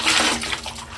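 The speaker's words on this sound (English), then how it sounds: "I'll change this water and we'll rinse it again." Water splashing and sloshing in a basin as a wig is rinsed, a close, fairly loud burst of churning liquid that gradually settles.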